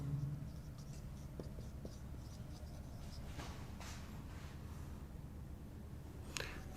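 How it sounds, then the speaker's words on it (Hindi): Faint, scattered scratches of writing on a board during an electronics lecture, soft and intermittent against low background hum. "तो यहाँ मैं लिख देता हूँ"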